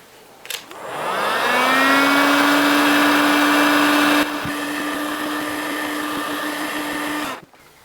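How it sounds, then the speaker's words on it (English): A heat gun starts up and blows hot air in a loud, steady whirring roar that drops slightly in pitch partway through before shutting off. It is used to soften glue on a 1665 antique spice cabinet under restoration. "I've got a heat gun and a knife. I'm not pointing the heat gun at the piece. I'm pointing the heat gun at the knife."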